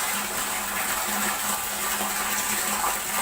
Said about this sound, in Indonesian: nanti kalau kurang ditambah airnya